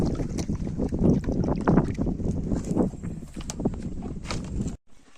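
A small fishing boat moves on water in the Sundarbans, with sloshing and knocking against the hull, wind buffeting the microphone and shuffling footsteps on board, ending in a brief cutoff.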